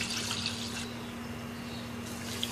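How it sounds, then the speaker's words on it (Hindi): A litre of milk poured into a pan for vanilla custard, a soft, steady liquid splash that runs close and unbroken for a couple of seconds, with no talking. "वनीला कस्टर्ड बनाने के लिए एक पैन में 1 लीटर दूध डालिए"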